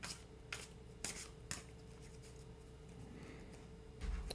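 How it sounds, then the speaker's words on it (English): Oracle cards shuffled by hand during a tarot-style reading, giving soft papery riffles and a few sharper card slaps at a steady pace, close up with no talking. "We'll do one more shuffle here."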